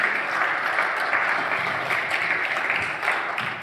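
A church congregation applauds after the worship team finishes, with dense, steady clapping from many hands that holds at an even level for the whole stretch.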